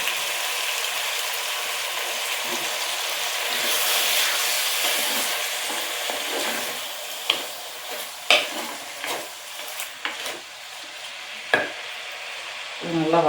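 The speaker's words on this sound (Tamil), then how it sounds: "தக்காளி வதங்குறதுக்கு உப்பு சேர்த்துக்கிறேன்" Tomatoes sautéing with salt in a hot pan give a continuous close sizzle and hiss, broken in the second half by several sharp spatula scrapes and stirring knocks against the pan.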